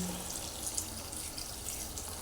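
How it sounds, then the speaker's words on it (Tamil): Tamarind soaking water is poured into a pot for mango sambar, giving a soft, steady liquid trickle that stays faint and continuous throughout, with no voices. "இதில் புளி ஊற வச்சிருக்க இல்லையா அந்த தண்ணி அப்படியே"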